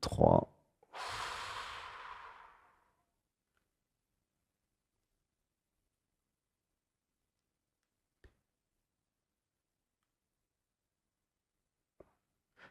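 A deep nasal inhalation drawn in near and loud, followed by a longer breathy exhale-like rush, then quiet with a few faint ticks.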